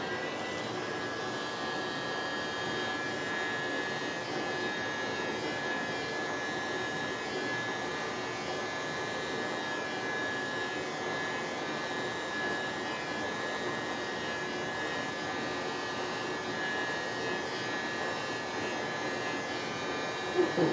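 Air is blown onto poured acrylic paint in a pour painting, a steady whirring blower drone held close and constant, with no talk.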